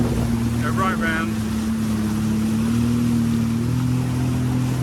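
A Princess 88 motor yacht manoeuvres to dock, its engines giving a steady low drone with a constant tonal hum throughout, while people talk briefly near the start.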